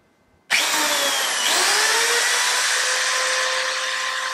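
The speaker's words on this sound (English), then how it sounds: "It's very, very hard to drill here." Power drill boring into a hard wall, starting abruptly after a brief quiet and running as a loud, steady whine with a slight pitch shift partway through, close by and with no talk over it.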